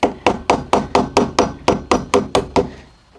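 A hammer tapping a socket held against a lathe motor pulley on a Vevor 8x14 inch lathe, about eleven sharp metallic strikes in a quick, even rhythm, close and loud.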